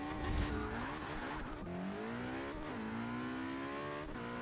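McLaren P1 in Forza 6 accelerating hard through rising gear sweeps, bouncing off the rev limiter, loud and close with tyre squeal.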